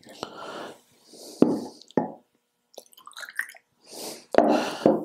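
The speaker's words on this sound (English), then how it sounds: "So all we have to do is add water." Water is poured into a Valentine's Day bud vase in short bursts, splashing and gurgling with separate plops and drips between pauses, close and fairly clear.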